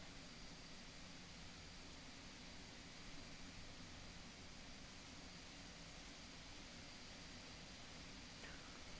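Airbus A400M turboprop engines drone in Microsoft Flight Simulator 2024, a steady, faint, unbroken hum heard from outside the aircraft during descent, with no talking.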